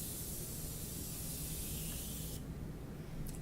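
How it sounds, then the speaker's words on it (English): Morphe Continuous Setting Spray releases a steady, close, continuous hiss of fine mist for about two and a half seconds, then cuts off abruptly, leaving a softer airy tail with no voices. "Next, I have the Morphe Continuous Setting Spray."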